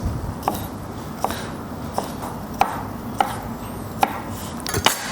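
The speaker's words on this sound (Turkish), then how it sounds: "Bunu da buradan kesiyoruz." A knife chops garlic on a cutting board for a Turkish fava bean dish, landing about seven sharp, evenly spaced cuts at a moderate pace, close and clear over a faint background hiss.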